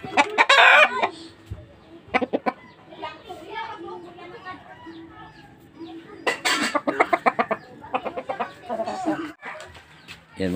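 A live chicken, about to be scalded and cleaned for roasting, clucks and squawks in loud bursts at the start and again in rapid repeated calls later, with people talking nearby between the outbursts.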